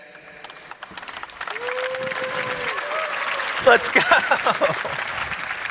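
An audience claps to vote at a live arena show, the applause building from scattered hands into steady, fairly loud clapping, with a short spoken call from one person near the start.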